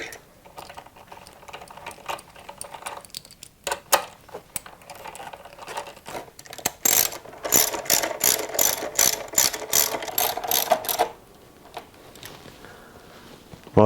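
A hold-down screw is ratcheted in on a 2007 Suzuki GSX-R headlamp, with scattered clicks and handling noise first, then a long, steady run of close, rapid ratchet clicks that stops abruptly.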